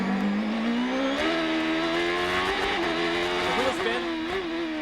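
A 2006 Champ Car race car engine at the Molson Grand Prix of Toronto, heard on board and loud, revving steadily upward as the wheels spin, with a continuous rising whine and brief dips as it shifts.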